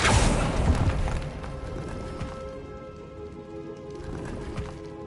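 A Confringo blast spell in a Harry Potter wizarding video game, opening with a loud burst that rumbles and fades into echoing debris, followed by scattered impacts and a second softer swell.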